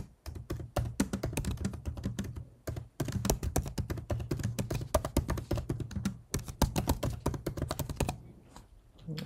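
Rapid keystrokes clatter on a computer keyboard in dense bursts, with brief pauses between runs of typing, close and clear.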